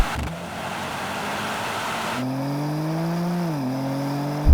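An AMG C63, a BMW M3 and an Audi RS4 launch together in a drag race, their engines rising in a steady, loud howl that climbs in pitch and then shifts at a gear change.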